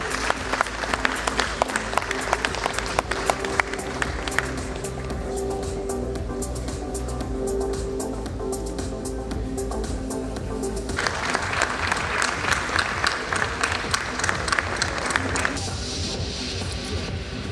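An audience claps steadily throughout, a dense wash of applause that swells again toward the end.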